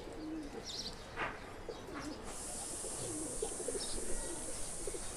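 Soft pigeon cooing from tournament birds, low and murmuring, repeats several times beneath a steady hiss and scattered chirps from other birds nearby.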